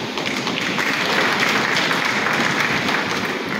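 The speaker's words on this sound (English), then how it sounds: "I think that's a good place to clap." Mourners applaud together at a burial ceremony in Oru-Ijebu, a steady dense wash of clapping that holds evenly for several seconds without any talk over it.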